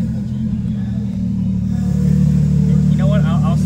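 A car engine rumbles loudly and accelerates with a quick gear change, the engine tone rising steadily, while people talk over it.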